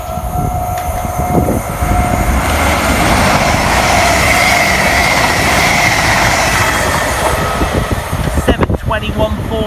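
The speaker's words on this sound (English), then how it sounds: "Next to fly through the station for Greater Anglia, 1 Yankee 39 from Ipswich through to London Liverpool Street." A Greater Anglia train running from Ipswich to London Liverpool Street roars through a station on the Great Eastern Main Line, a loud sustained rush of wheels and engine with a high whine, fading toward the end.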